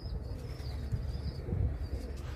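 A tumbler pigeon arriving, with soft cooing and a faint flutter of wings against a low outdoor rumble, brief and moderately close.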